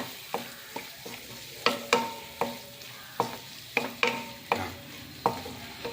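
A spoon scrapes and knocks around a pan of Chettinad chicken kuruma in a run of distinct, evenly spaced strokes, each one sharp and close, with quiet pauses between them and no voices.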